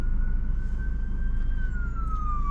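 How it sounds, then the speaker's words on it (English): An ambulance siren wails along a Washington DC street near Union Station, a steady rising and falling tone over loud low traffic rumble as the vehicle passes close by. "Ambulance."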